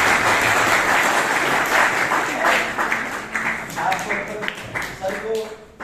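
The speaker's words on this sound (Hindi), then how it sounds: "इनके लिए जोरदार ताली स्वागत" Strong applause from an audience at an industry event welcomes a guest to the stage, dense clapping that fades over several seconds while voices begin to speak over it.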